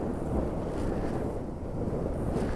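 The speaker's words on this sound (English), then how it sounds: "the wind is really on and off here" Gusty wind blows across an open hillside used for slope soaring a Ripmax Coyote glider, rumbling steadily against the microphone with low buffeting and no voices.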